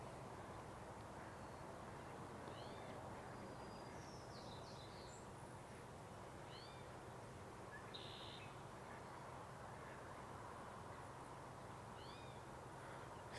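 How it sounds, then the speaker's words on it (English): A towhee gives faint, distant mewing calls resembling a cat's meow, a few scattered short notes over a steady hiss of marsh ambience. "it, to me sounds like a bit of a cat's meow. Is the towhee."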